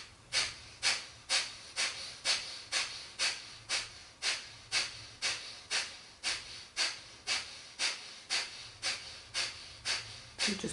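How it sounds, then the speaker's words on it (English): Strong, rhythmic forced breaths during a yoga wake-up breathing exercise, about twenty sharp exhalations in steady succession, close and loud, with no talking. "you're going to really start breathing quite strongly"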